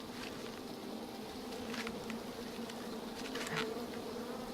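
Bees buzzing in the King's Quest video game, a steady quiet insect drone with faint wing flutters, continuous throughout and with no voices.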